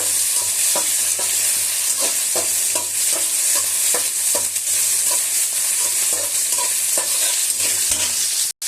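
Chopped tomatoes and green chillies frying and being stirred in a hot pan, with a loud steady sizzle and repeated scraping strokes of a spoon throughout.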